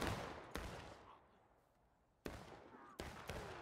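Musket volleys crack out in War of Rights, several sharp broadband reports at irregular intervals, each trailing off in a rolling echo, with a quieter lull between the first shots and the later bursts.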